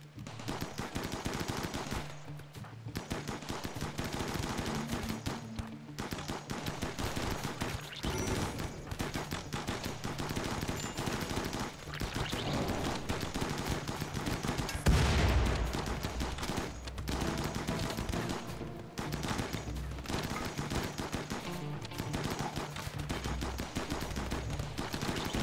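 Mini turrets in RimWorld firing bursts of rapid gunfire for a long stretch, dense rattling volleys with short pauses and one louder impact midway.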